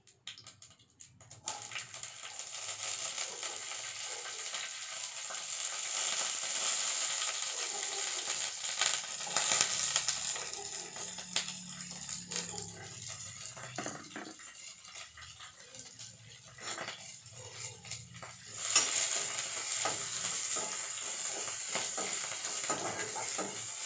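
Mustard seeds, curry leaves and green chillies sizzle in hot oil, a continuous bright crackle and hiss that holds steady throughout, with occasional stirring clinks and a louder burst of spitting partway through.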